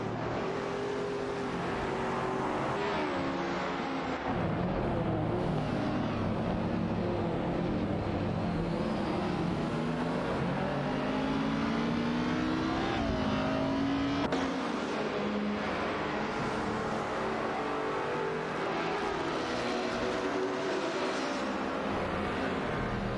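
Racing cars in an AI video game race, including a Pagani Huayra, roar continuously with engines revving and shifting pitch as they pass and jostle for position, loud and sustained throughout.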